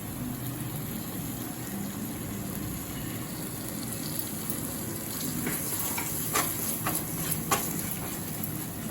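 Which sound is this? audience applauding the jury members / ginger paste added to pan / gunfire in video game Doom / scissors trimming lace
ginger paste added to pan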